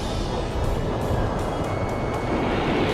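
A fighter jet roars in Ace Combat 5 during an aerial mission over a castle, a steady loud engine drone and rushing air with faint repeated high whooshes, no speech.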